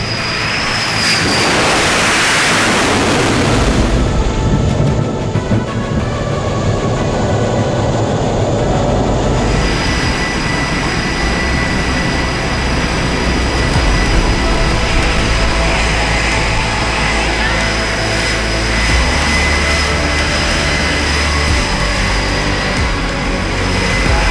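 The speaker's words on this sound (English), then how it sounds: "Just landed on an aircraft carrier in the backseat of an F-18." An F-18 jet landing on an aircraft carrier: a loud roaring rush that swells in the first seconds, then a sustained heavy mechanical rumble with a steady high whine, no talking.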